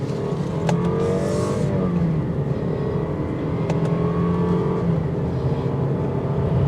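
Turbocharged 2023 Lexus IS 300 Premium sedan accelerating on a test drive, a loud sustained engine drone rising and shifting in pitch under steady road roar, with no talking.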